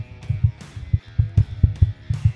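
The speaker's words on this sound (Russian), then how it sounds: "вот такой вот звук нажатия кнопки" A series of low, thumpy clicks in an uneven rhythm, about a dozen button presses on a PreSonus Revelator microphone, close with a short resonant tail on each.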